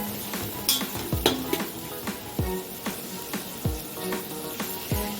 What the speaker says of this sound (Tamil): வெங்காயம் நல்லா வதங்கி கோல்டன் ப்ரௌன் ஆகணும்.